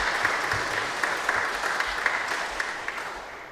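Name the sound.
audience applause for election candidates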